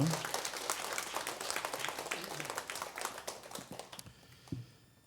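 A church congregation applauds for the children and youth attending worship, a dense wash of many hands clapping that fades out near the end, with a few isolated claps and faint voices after.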